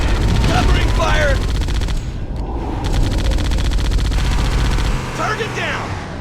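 Loud, dense gunfire from a Halo: Combat Evolved battle roars almost continuously, with rapid automatic bursts, a brief lull around two seconds in, and shouted game voices mixed over the shooting.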